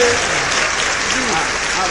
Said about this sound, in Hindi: तालियां बजाकर सुनिएगा।